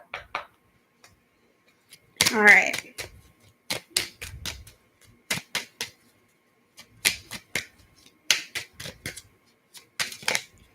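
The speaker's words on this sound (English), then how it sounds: "Shuffle that really quick." Brisk clicking and slapping of tarot cards being shuffled in quick bursts, close up, with a brief spoken word near the start.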